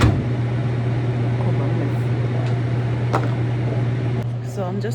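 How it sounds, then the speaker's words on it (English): A microwave oven warms food with a steady, close electrical hum and fan whir, running continuously; a few faint clicks and a brief high chirp near the end. "I'm just warming up my food in the microwave"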